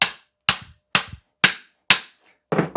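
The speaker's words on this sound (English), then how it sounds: "I grab a hammer, put my hammer on the side" Hammer tapping a star nut into a bicycle steerer tube: five sharp metallic strikes about half a second apart, then a quick double knock, close and loud with silence between blows.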